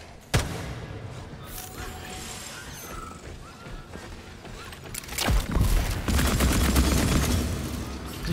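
In the Atomic Heart video game, gunshots ring out: one sharp loud shot near the start, then a cluster of shots and heavy crashing impacts later over background game noise, with faint talk.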